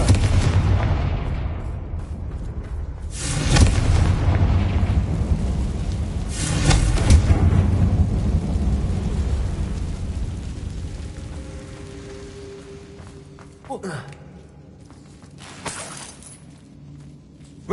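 Confringo spell blasts in Hogwarts Legacy: several loud booming explosions erupt a few seconds apart, each fading into rumbling debris, with quieter magical effects in between.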